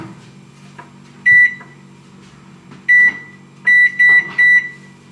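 A microwave oven runs with a steady low hum, and five loud, clear electronic beeps sound over it. The beeps come singly at first, then three in quick succession near the end.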